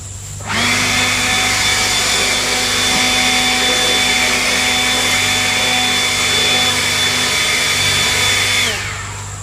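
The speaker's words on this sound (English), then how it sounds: "Since we didn't get them all out with the fume board, we'll run them out with a blower." A loud leaf blower drives bees out of honey super boxes, starting abruptly with a steady whining roar that holds for about eight seconds before cutting off.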